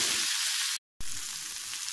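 Capsicum chutney frying in a pan gives a steady, close hiss of sizzling that cuts out briefly for a moment, then resumes, with no voices.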